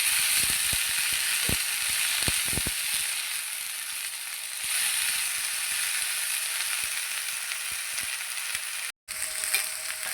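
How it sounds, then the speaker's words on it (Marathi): Cluster beans (guar) roast in a hot pan with semolina and oil, giving a loud, continuous sizzle broken by the scraping clicks of stirring. "आता ही गवार आपण छान भाजून घेऊ दोन तीन मिनिटे"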